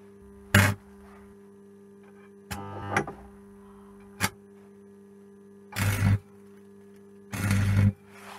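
An old scrap arc welder buzzes with a steady mains hum, broken by five short, harsh crackling bursts as the rod strikes and arcs, close and loud.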